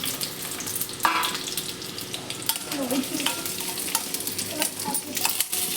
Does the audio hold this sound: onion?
yes